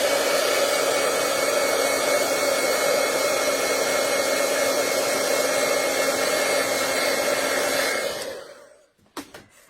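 Hair dryer blowing steadily on watercolor paint, a loud continuous whirring hum that runs alone for about eight seconds before switching off, followed by a few faint handling knocks.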